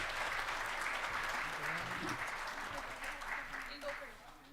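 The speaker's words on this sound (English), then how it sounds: "Give them a warm, warm welcome and round of applause." Audience applause at a Matawa education event fills the whole span as dense steady clapping, with some voices and cheering mixed in, slowly thinning toward the end.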